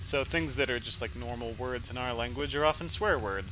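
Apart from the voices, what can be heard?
None of the usual background noises is heard.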